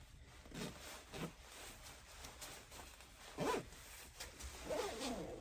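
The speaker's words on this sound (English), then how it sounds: "I stitched this part down so that it won't get stuck when I zipper it." A few short, scratchy pulls of a coat zipper in bursts, close by and fairly quiet, with brief pauses between them and no talking.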